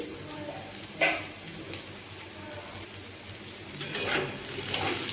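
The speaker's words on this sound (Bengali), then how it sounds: "এইভাবে একটু ভেজে নিচ্ছি" Bitter gourd and potato pieces fry in an oil-filled pan with a steady, rain-like sizzle, broken by a single utensil clank and growing louder toward the end.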